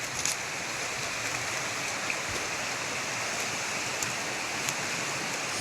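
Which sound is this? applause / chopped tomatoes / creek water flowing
creek water flowing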